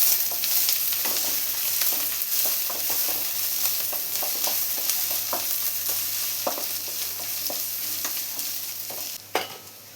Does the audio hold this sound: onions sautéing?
yes